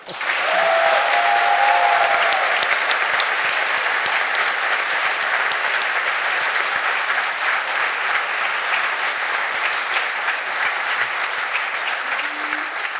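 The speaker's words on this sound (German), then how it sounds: "Bitte einen großen Applaus für den Twitter-Account des Jahres, Niklas Levison." A German sports-show studio audience breaks into loud, sustained applause for guest Niklas Levison, a thick, even roar of clapping that holds at full strength from start to finish, with a brief whistle near the beginning.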